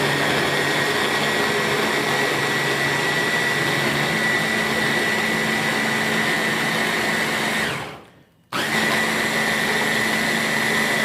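Silvercrest SSMS 600 D4 hand blender running on turbo, a loud steady high whine with a motor drone that cuts out briefly near the end, then starts again at full speed.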